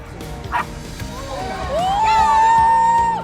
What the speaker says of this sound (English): Approaching a panicked dog is truly challenging.